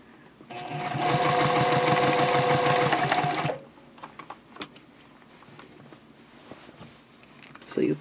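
A sewing machine stitches a Christmas stocking from the inside at a 2.5 stitch length. It runs in one fast, steady burst of about three seconds, then goes quiet apart from scattered soft clicks of fabric being repositioned.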